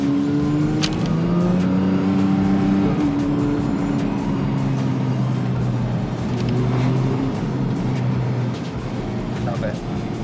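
A 2022 Porsche 992 GT3 engine accelerating hard on a fast drive, loud sustained revs rising through the gears and echoing off nearby walls, heard from inside the car with some talk over it.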